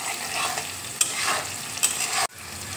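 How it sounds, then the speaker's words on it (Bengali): Okra (bhindi) fries in oil in a pan with a continuous close sizzle and a few clicks of stirring, the frying noise dipping sharply near the end. "ভিন্ডি দেখো ভাজা হয়ে গেছে"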